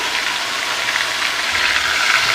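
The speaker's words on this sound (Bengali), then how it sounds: "এতে একটু জল দিয়ে দিচ্ছি" Water poured onto frying spice paste in a hot pan for chicken curry, producing a steady, close hiss and crackle of sizzling that holds evenly throughout without speech.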